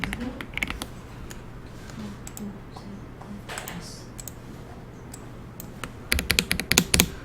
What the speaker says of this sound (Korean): 컨트롤 키를 누르고 있는 상태에서 방향키 아래로 키보드에 방향키 있죠?